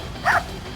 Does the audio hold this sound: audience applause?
no